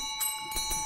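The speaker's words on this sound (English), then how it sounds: "I hear Bailey fiddling with his bell." A bell being handled in the horror game Phasmophobia gives a few brief, faint metallic ticks and jingles in under a second, with a steady tonal hum behind them.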